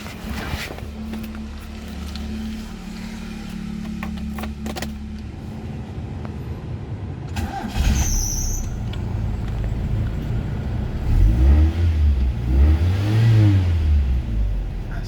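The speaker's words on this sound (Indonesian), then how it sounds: "coba nyalain mesinnya kali ya. Kita nyalain mesinnya." A 1985 Honda Accord Executive engine cranking to life, then idling and revving in rising and falling surges, close and fairly loud.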